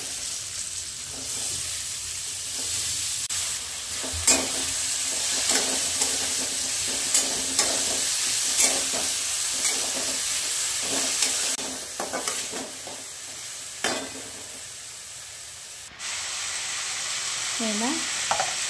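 Finely chopped potato sizzles and fries steadily in a pan for a khichdi, with occasional scraping stirs of a spoon throughout and a brief lull near the end.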